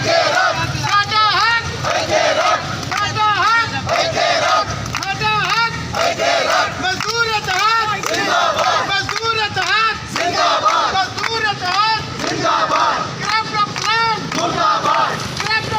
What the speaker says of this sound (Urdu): اس موقع پر تمام مزدوروں نے بھرپور نعرے بازی کی